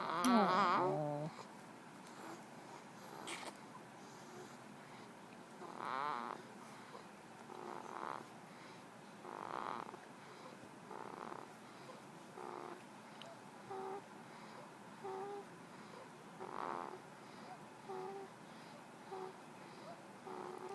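A sleeping baby snores softly in a quiet room, with a rhythmic, purr-like rasp returning every second or two. The breaths are faint and close, and a brief louder sound comes at the very start.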